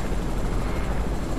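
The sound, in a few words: helicopter in Fortnite video game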